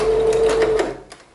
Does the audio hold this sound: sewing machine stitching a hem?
yes